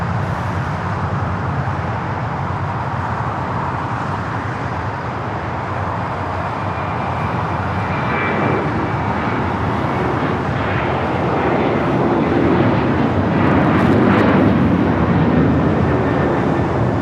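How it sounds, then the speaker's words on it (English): An Asiana airliner arriving from Seoul at LAX at night, a broad, loud jet roar that holds steady and swells near the end as the plane passes nearby. "Asiana flight 204 coming in from Seoul."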